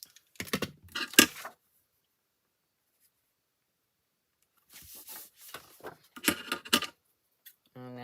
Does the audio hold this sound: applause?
no